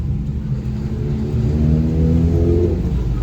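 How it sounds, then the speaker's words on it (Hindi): Harley-Davidson motorcycle on a congested road, a deep rumbling engine that swells louder toward the middle as it passes near, with steady low road noise underneath. "जस्ट मेरे पीछे हार्ले डेविडसन की बाइक है"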